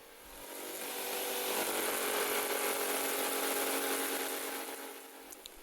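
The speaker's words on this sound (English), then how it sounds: "I had an old corded drill that I was willing to dedicate to this" An old corded electric drill drives a homemade bead roller working sheet metal. Its steady, close motor whine ramps up, holds for several seconds, then winds down, with no talking.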